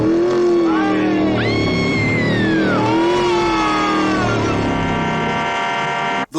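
The menacing car from the horror film The Car roars loud and close, its engine revving with rising and falling pitch sweeps as it speeds along.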